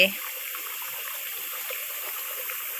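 Water pours over a small weir at a natural waterfall in Thailand, a steady broadband rush that carries on without break across the whole clip.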